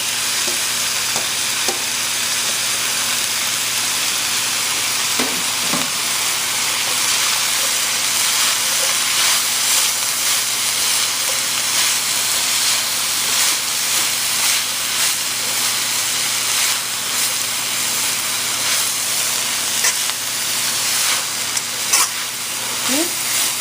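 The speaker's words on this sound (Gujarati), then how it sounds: "જ્યાર સુધી આપણું આ સ્ટર ફ્રાય થાય છે" Chillies, cabbage and carrot stir-frying for Singaporean chicken, a loud continuous sizzle and hiss with occasional clanks of stirring against the pan throughout.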